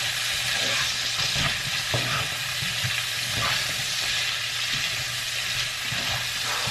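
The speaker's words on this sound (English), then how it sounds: "I'm just gonna saute it." Vegetables for Mauritian chow mein sizzle and hiss steadily in a hot pan with some stirring clatter, a continuous close frying sound with no one speaking.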